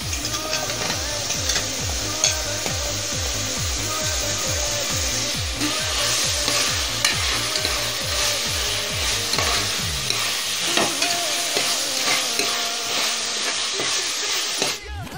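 Mushrooms and ginger garlic paste sizzle in a pan during mushroom biryani cooking, with a steady fry and regular rhythmic scraping strokes of the stirring spoon, near and continuous, the stirring stopping toward the end.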